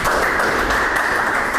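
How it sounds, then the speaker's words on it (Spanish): Audience applauding a speaker at an academic talk on fuel cell catalysts, a brief dense burst of clapping filling the room at a steady level. "un aplauso para Angélica Baena"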